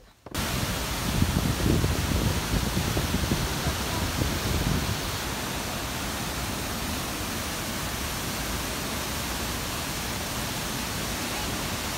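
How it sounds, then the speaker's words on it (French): Waterfall in Bali: a steady, loud broadband rush of falling water that fills the whole clip, with a heavier, rumbling burst over the first few seconds before it settles into an even roar. "là, il nous a ramené à une cascade"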